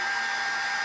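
A heat gun set to 240 degrees blows hot air for paintless dent repair on sheet metal, a steady, bright, even whoosh heard close and alone.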